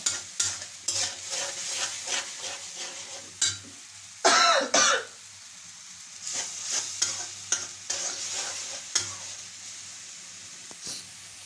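Spice paste of chili powder and fish masala mixed with water, frying in a wok for a hilsa curry: crackling sizzle broken by repeated bursts of stirring and scraping, with a brief louder hiss midway.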